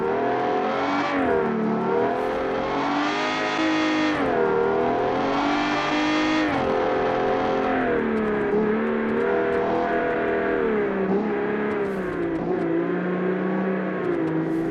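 A car engine in a driving game revs hard and continuously, its pitch climbing and dropping repeatedly through gear changes as the car accelerates, loud and close with no talking.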